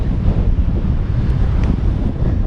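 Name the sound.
wind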